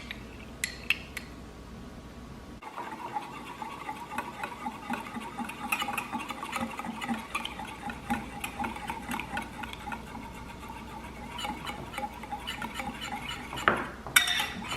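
A utensil clinks and scrapes against a bowl, stirring batter with melted butter in quick, uneven rhythm, quiet and close, with a few sharper knocks near the end.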